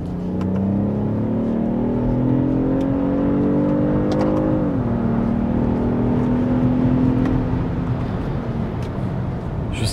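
A BMW X1 30e plug-in hybrid in sport mode pulls hard, its engine note climbing steadily, dipping briefly at a gear change, then rising again with a continuous whirring drone.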